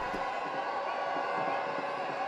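Dense crowd noise at a cricket stadium during a Legends League match, a steady broad roar of cheering spectators heard from a distance, continuous and without distinct individual voices.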